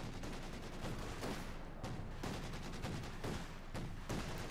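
DShK heavy machine guns rattle in sustained bursts of gunfire in the Company of Heroes 2 video game, a dense loud battle din with brief gaps between volleys.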